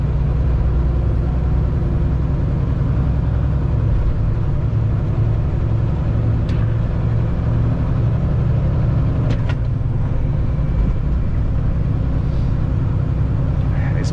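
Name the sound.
car driving on a highway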